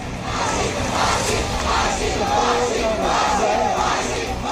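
Thousands of protesters at Badlapur railway station in Thane, Maharashtra, chant slogans calling for hanging, a loud, dense, continuous roar of massed voices with rhythmic swells.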